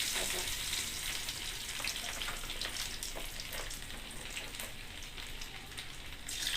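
Finely chopped ginger and garlic frying in hot oil, a continuous bright sizzle with crackling pops and occasional stirring scrapes, close and steady the whole time.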